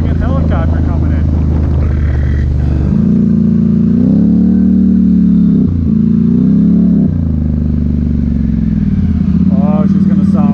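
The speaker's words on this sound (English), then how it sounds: "Sounds like a friggin' helicopter coming in." Polaris Sportsman 1000XP ATV with a new engine revving hard through its exhaust, several loud rising and falling throttle blips in a row, close and continuous, with someone talking briefly at the start and end.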